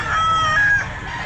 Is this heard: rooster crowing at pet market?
yes